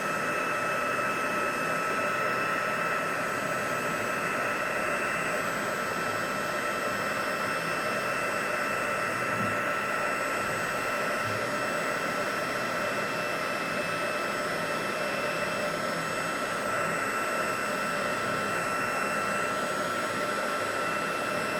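Steady close whirring blast of a heat tool melting embossing powder on chipboard, constant and loud throughout with no pauses.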